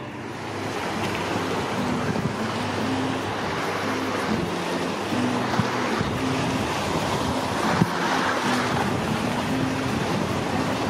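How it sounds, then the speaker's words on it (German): Steady broadband wash of water and wind from a passing boat's wake, with a low droning tone running underneath, continuous and fairly loud throughout with no voices. "Dieses Boot macht geile Wellen."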